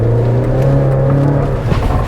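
A Chevrolet Colorado ZR2 pickup on a dirt course revs hard, its engine holding a loud, steady droning note with strong harmonics, heard close and alone.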